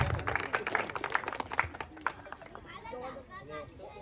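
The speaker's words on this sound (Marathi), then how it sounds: "सर्वांनी जोरदार टाळ्या वाजवा." Members of a large family gathering clap together in a burst of lively applause that fades out after a couple of seconds, with children's voices and chatter rising over it.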